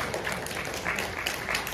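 A church congregation applauds the singers, a dense, steady patter of many hands clapping at moderate distance for a couple of seconds.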